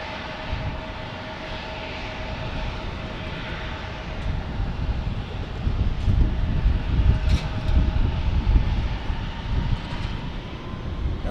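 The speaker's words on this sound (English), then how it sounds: "Alaska Airlines from Portland, Oregon." An Alaska Airlines jet arriving from Portland, Oregon at San Diego, a broad engine rumble with a faint whine that swells in the second half and stays continuous.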